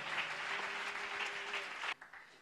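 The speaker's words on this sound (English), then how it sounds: "Give him a clap of praise." A church congregation claps in praise during a bilingual English and Swahili sermon, a dense run of hand claps lasting about two seconds before it cuts off abruptly and leaves a few scattered claps.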